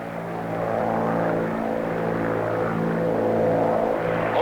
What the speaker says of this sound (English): Only the most skillful pilot could keep this crippled plane on an even keel, and Student Jones is not a skillful pilot.